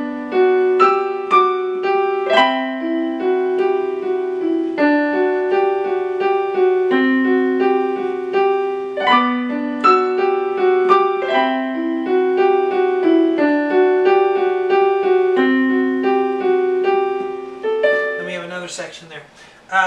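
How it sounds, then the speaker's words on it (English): Solo piano plays a section of a dark, reflective arrangement of Silent Night, with a slow melody over sustained chords and a brief high flourish at the close. "So we have this kind of dark sounding Silent Night melody, kind of ominous, but just, you know, really reflective sounding"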